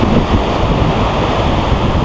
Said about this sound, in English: A couple of nice rollers coming in.